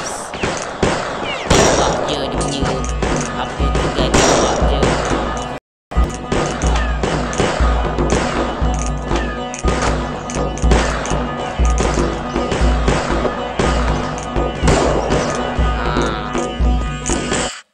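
Video game gunfire: loud, dense bursts of shots and impacts pound on almost without a break, with one brief cut to silence, crowding together in a harsh, chaotic barrage.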